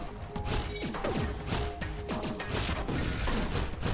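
A robot being smashed in a video game: a loud, busy clatter of repeated crashing and thwacking impacts, close and sustained, with little talk.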